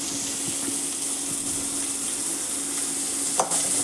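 Small onions fry in a pan with a constant, even sizzle close by, one brief clatter near the end and no talking.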